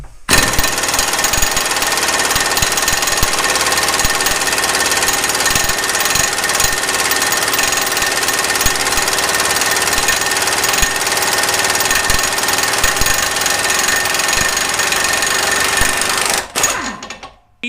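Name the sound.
Snap-on impact gun removing a fastener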